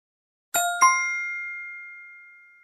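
Two quick bell dings strike in succession, bright and clear, then ring out in a long fading tone against silence.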